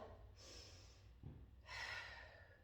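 A slow deep breath in a quiet room, a long airy inhale followed by a soft snorting exhale, close and fairly faint with no talk.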